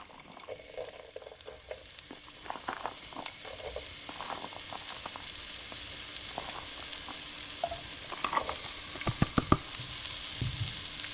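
Onions cooking slowly in a pan give off a soft, steady sizzle, with scattered clicks and scraping from stirring that grow busier toward the end.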